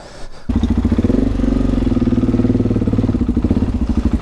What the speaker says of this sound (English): I'm on his bike, which is KTM690, but this thing is an absolute weapon